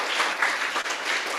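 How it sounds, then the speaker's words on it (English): Indoor group applause at a Buddhist fellowship memorial gathering, a short, thick burst of many hands clapping together, close and even, with no talking. "Okay, Michelle, I'll give you an extra clap."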